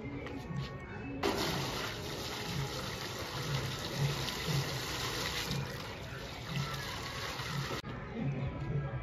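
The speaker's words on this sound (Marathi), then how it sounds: "भावांना हा बघा टप, ह्याच्यामध्ये पाणी टाकायचं आणि त्याच्यामध्ये खबुतर आंघोळ काढणं" Water gushes from a bucket into a tub meant for pigeons to bathe in, a loud continuous pour that starts suddenly and stops sharply near the end.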